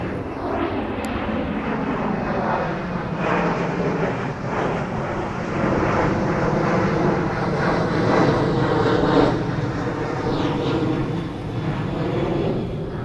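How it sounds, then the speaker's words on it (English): A propeller airplane drones steadily overhead in South Florida, a continuous broad engine rumble at fairly even loudness throughout, with no voices. "The sound of that plane, I heard it more so when it was by these trees."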